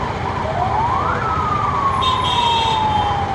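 Ambulance siren wailing through Bangalore traffic near a busy circle, a single rising then long falling sweep, loud and close, over constant road noise and engine rumble.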